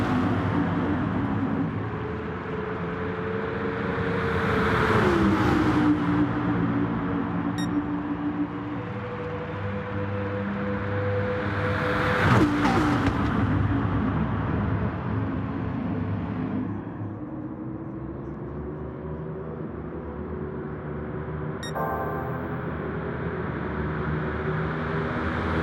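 Race cars in Gran Turismo Online circling an oval track, with a steady droning engine whine that rises and falls in pitch as cars pass, fairly loud and continuous throughout.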